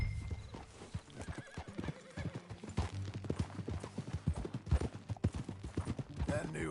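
Horse hooves clip-clop at a steady trot in a Western simulator game, close and busy, with a whinny and voices talking over the hoofbeats.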